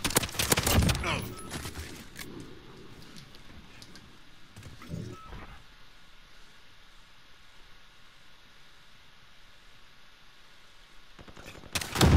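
Pistol gunfire in a video game: a cluster of sharp shots at the start and another burst at the very end, with quieter game ambience between them.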